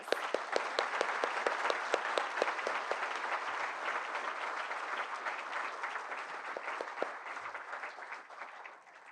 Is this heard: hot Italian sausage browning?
no